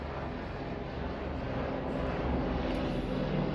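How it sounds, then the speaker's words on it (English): A helicopter flies overhead near a home balcony, giving a steady, fairly loud low rumble that holds evenly throughout with no voices. "Helicopter."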